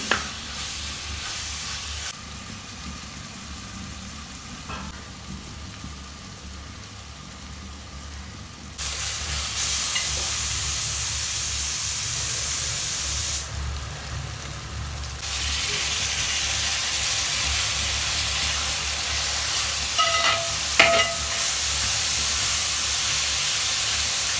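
Green chillies and tomatoes frying for homemade chicken biryani, a continuous hissing sizzle that grows louder partway through, with occasional scrapes of stirring.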